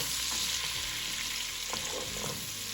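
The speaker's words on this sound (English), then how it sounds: "and our onions and our garlic. Let's give that a stir." Onions and garlic frying in a pot for a Zuppa Toscana soup, a steady close sizzle with occasional scraping stirs from a utensil.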